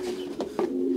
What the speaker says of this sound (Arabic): شوف الحمام باغي يطير